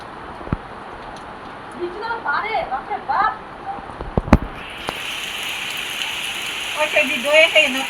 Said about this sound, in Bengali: ও বৃষ্টি, এত বৃষ্টি, আর কিছু লাগবে না রে।